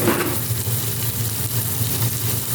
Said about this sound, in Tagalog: Gigisa po natin.